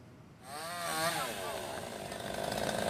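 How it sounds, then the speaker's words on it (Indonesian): A chainsaw starts up and runs steadily, cutting through branches of a fallen banyan tree that toppled onto cars on a Jakarta street, its engine revving and wavering close by with some background voices. "Petugas menggunakan gergaji mesin untuk memotong dahan pohon yang menimpa kendaraan demi mengevakuasi korban"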